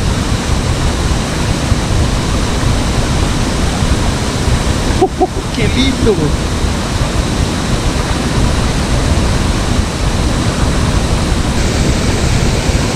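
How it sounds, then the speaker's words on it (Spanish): Steady broadband roar of the Las Buitreras waterfall in Maule, continuous throughout, with a brief exclamation from a person partway through. "Miren. Cascada Las Buitreras."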